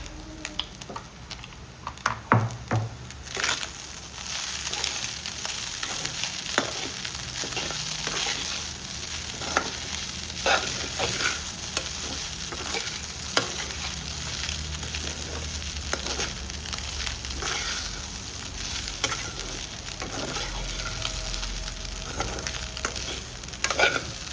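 Goat blood fries and is stirred in a pan in a village kitchen, with a soft continuous sizzle broken by frequent sharp scrapes and taps of the spatula, close and moderately quiet, with no talking.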